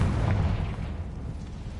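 A Confringo fire-blast spell exploding in Hogwarts Legacy: a deep, booming burst with a rumbling low-end body that quickly fades into a softer, lingering roar, alone without speech.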